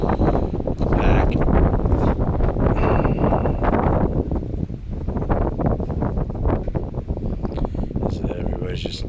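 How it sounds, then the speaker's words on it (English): Strong wind on a windy summer day outdoors, a loud, constant gusting roar buffeting the microphone, with people talking underneath. "So everybody's just chilling out, enjoying this wind."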